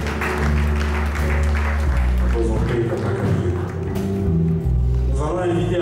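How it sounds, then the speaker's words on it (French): Mourners at a funeral in Kinshasa applaud in a steady, full wash of clapping that runs throughout, mixed with a low musical drone and voices talking over it. "Merci, on applaudit très fort."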